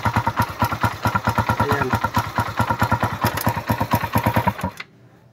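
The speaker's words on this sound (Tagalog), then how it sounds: "Pakinggan natin yung makina dahil maingay yung makina nito, walang natuyuan." A Suzuki Raider motorcycle engine, run without an oil change, idles loudly and up close in a fast, even stream of clattering ticks and thumps before cutting off abruptly near the end.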